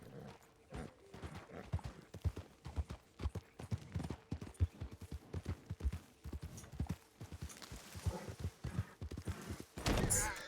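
Hooves clop in an irregular, quickening rhythm as a horse approaches in a video game, thudding close by, with a brief snort or whinny near the end.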